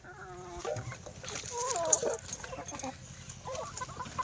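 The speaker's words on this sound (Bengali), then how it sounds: "মুরগি পাতা বিশাল খায়, ওই দেখো মুরগি এবার খাবে দেখবা শুধু" A chicken clucks softly in short, soft murmuring calls while eating leaves outdoors, the calls rising and falling over a faint background.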